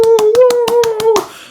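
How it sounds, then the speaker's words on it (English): A small group in a podcast studio gives a short round of applause: about eight sharp, evenly spaced claps, close and loud, under a drawn-out vocal whoop that fades as the clapping stops. "everybody give a round of applause for Isaiah"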